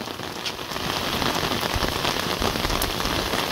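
Steady rain pours outside a house door in rural Berkane countryside among orange farms, a dense continuous patter close by with no voices.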